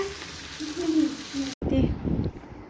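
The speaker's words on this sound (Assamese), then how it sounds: "মাছখিনিয়ে ভাজি পটককৈ হৈ যাব" Fish frying in a pan, a steady close sizzle with a brief cut midway, accompanied by low voice-like sounds.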